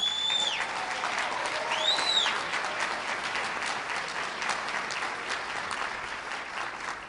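Steady applause from an audience for Tampa Mayor Bob Buckhorn, an even wash of clapping throughout, with a few faint high whistles or squeaks near the start.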